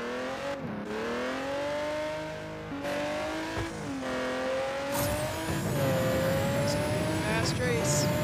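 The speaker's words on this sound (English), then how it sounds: "This is a nitro rush. Oh yes, I love nitro rushes." A Lamborghini Murciélago race car in the video game Need for Speed: No Limits roars through a nitro boost, its engine rising and falling in pitch through gear shifts, with tire squeals and whooshing effects close and loud throughout.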